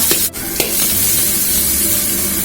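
Green and red peppers and diced onion stir-fried in hot scallion oil, a loud, steady close sizzle with a couple of brief scrape or clatter accents near the start.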